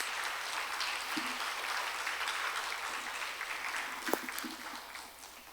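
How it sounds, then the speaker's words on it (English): Distant, faint applause from an audience at a classical Indian dance recital, honoring the accompanying orchestra; a soft, steady wash of clapping with a couple of louder isolated claps near the end. "I would like to give them a big, big, big round of applause."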